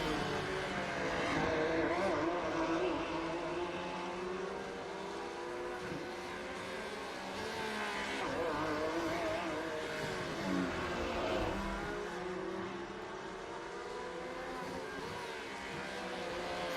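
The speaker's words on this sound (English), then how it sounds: "I can hear all the noise from the Porsche 911 burning around the Long Beach Street circuit" Porsche 911 race cars lapping the Long Beach street circuit, a continuous layered engine roar with rising and falling revs as cars pass at a moderate distance, steady and unbroken throughout.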